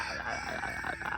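A small rooster crows in a chicken coop, the call drawn out and fairly strong across the whole moment, with no voices over it.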